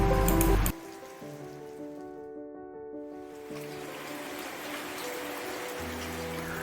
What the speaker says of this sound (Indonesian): Kami pun beberapa kali sempat terhenti berteduh karena hujan melebat sangat deras.